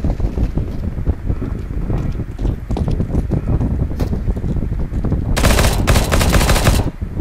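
Gunfire in the video game Counter-Strike: Global Offensive, with repeated sharp shots over a gusty, windy background, ending in a loud, dense burst of rapid fire.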